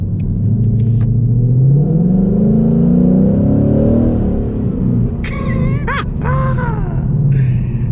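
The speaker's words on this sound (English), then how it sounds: "Ain't nothing like a V8, bro" A 2020 Ford Mustang GT with its 5.0 V8 revs hard up close, a loud steady rumble swelling through rising throttle blips and brief sharp surges near the end, with no talking.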